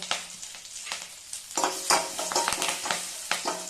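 Dried red chillies fry in hot oil in a pan for South Indian mor kuzhambu, a light sizzle broken by sharp clinks and scrapes of a spoon stirring, close and fairly quiet.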